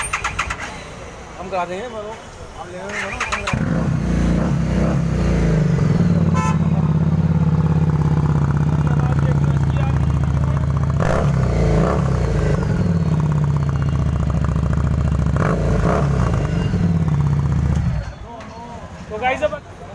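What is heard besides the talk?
2016 Royal Enfield Bullet motorcycle starting and revving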